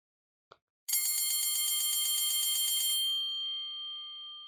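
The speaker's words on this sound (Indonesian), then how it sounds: "Bel berdering tanda jam pulang tiba." School bell ringing for the end of class: after a brief faint tap, a loud electric bell rings continuously for about two seconds, then a sustained tone lingers and slowly fades.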